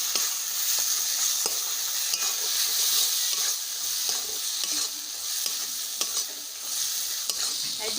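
Spinach sautéing in a pan with chili powder, turmeric and salt for palak paneer: steady close sizzling and hiss, broken by scrapes and clicks of a spoon stirring. Nobody speaks.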